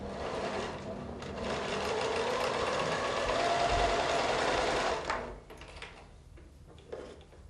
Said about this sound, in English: we're going to sew the solid block to